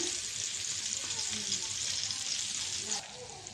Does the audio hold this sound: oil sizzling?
yes